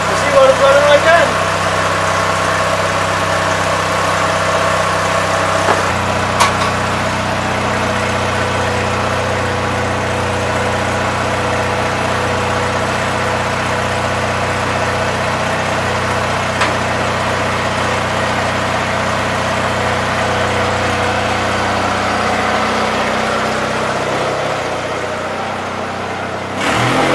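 A Gravely 817 tractor engine idles loud and close with a newly fitted muffler, a steady low rumble that shifts pitch slightly partway through and settles again, with no talking.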